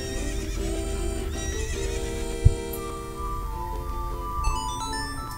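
A horse whinnies over steady clip-clopping hooves in The Legend of Zelda: Ocarina of Time, accompanied by background game music and a sharp thump partway through.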